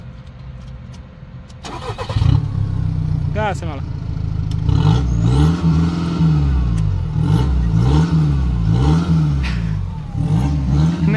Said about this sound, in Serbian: Sad će ga drugar upaliti.